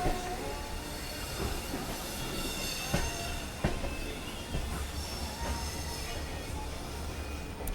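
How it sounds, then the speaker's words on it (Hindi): A train rumbles steadily with metallic clanks and occasional squeals of wheels, a continuous rolling noise like a slow arrival at platform 1 of New Delhi railway station. "प्लेटफॉर्म नंबर 1 पर हमारा अराइवल हो रहा है"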